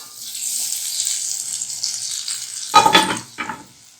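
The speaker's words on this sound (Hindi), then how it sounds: "अब हमने इसमें ये बघार डाल देना है" Hot baghar tempering is poured into Banarasi seviyan, setting off a loud sudden sizzle near the end, with two sharp bursts that fade after a steady background hiss.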